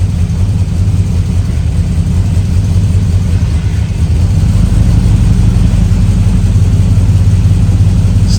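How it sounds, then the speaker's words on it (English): A car engine runs steadily up close, with a loud, continuous low exhaust drone that holds level throughout and thickens slightly after a brief dip midway. "The exhaust sounds pretty good."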